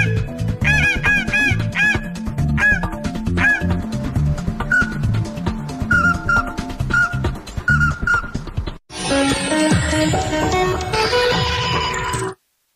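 A handmade game call imitates waterfowl with rapid, honking quacks and yelping notes in quick rhythmic runs, loud and close, followed by a brief gap and a sliding whistle-like tone before it stops.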